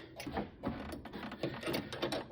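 A wrench tightening the steering gearbox bolts on a VW Bug, giving a quick run of close, rhythmic ratcheting clicks in short bursts.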